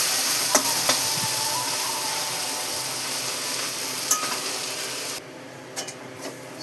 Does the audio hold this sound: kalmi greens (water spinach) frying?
yes